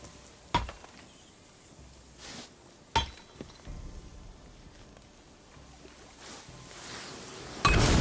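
A chisel struck with a hammer against stone in God of War, a few sharp metallic clinks spaced seconds apart over a quiet ambient bed, ending in a louder burst.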